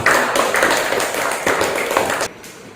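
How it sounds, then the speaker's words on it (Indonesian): Classroom applause for students in a teacher-training lesson, a dense patter of many hands clapping steadily at moderate loudness before breaking off near the end. "Kita beri dulu tepuk tangan karena sudah."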